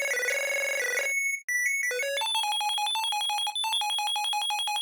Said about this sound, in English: Next layer is a massive Arp Lead. Not a low end. Nice and easy square wave with an LFO on the pitch,